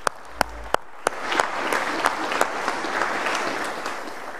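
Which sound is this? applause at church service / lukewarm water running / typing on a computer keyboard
applause at church service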